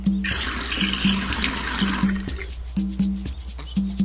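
In a Nick Jr. browser gardening video game, a water sound effect splashes and pours steadily over a repeating bouncy game tune.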